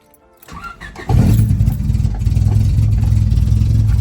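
A cheap project car with a strange issue cranks over briefly, catches and fires up, then settles into a loud, steady, slightly rough idle close by, with nobody speaking.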